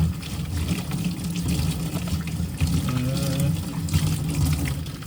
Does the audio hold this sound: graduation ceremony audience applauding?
no